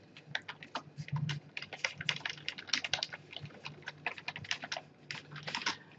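Rapid typing on a computer keyboard, a close, quiet run of irregular key clicks with no pauses.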